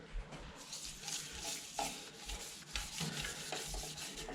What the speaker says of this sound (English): So now I'll just put some sanding sealer on.